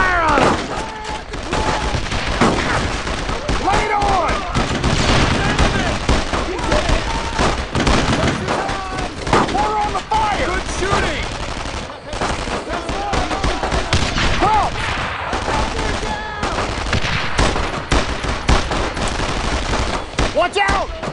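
Sustained heavy gunfire from the World War II shooter Brothers in Arms: Road to Hill 30 on PC, loud and continuous, with dense automatic bursts and rapid rifle shots and soldiers shouting over the battle throughout.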